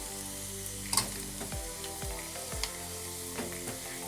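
Onions fry in hot oil for a mango pickle, giving a steady soft sizzle with occasional pops and light stirring scrapes, close and unaccompanied by speech.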